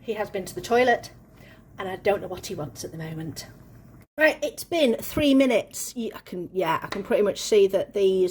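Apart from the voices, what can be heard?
No distinct noise like a dog, phone or traffic.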